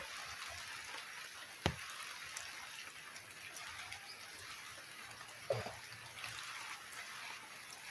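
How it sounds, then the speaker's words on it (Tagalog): Rain falling outdoors makes a faint, steady patter and hiss. Two brief louder taps or drips stand out, and quiet background sounds sit underneath. "habang hindi pa tumitila ang ulan"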